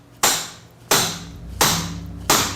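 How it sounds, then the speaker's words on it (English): A hammer knocks a die back into place on a power hammer in a metal shop, four sharp metallic blows spaced about two thirds of a second apart, each ringing briefly before the next, with nobody talking. "I'm going to knock it back in place where I want it"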